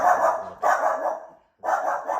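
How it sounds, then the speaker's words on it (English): A dog indoors gives three barks or yips in close succession, the first two nearly running together and the third following after a short pause, fairly close and fairly loud. "I hear the dog."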